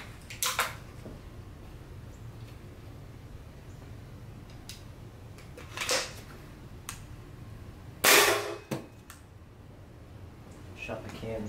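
Gunshots fired at an iPhone and an aluminum can, several sharp cracks spaced apart with one louder impact near the end, heard over low background noise and a voice talking.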